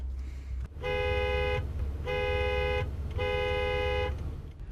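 A car horn sounds three loud, steady blasts of about a second each, separated by short gaps, close by over low road rumble during a vehicle malfunction.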